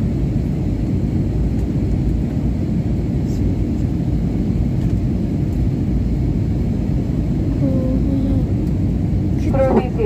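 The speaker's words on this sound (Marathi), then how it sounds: "म्हणजे आमचे विमान आता लँडिंगसाठी तयार आहे." A passenger airplane preparing to land at Chandigarh Airport fills the cabin with a loud, steady engine roar and rushing air, while a faint voice is heard near the end.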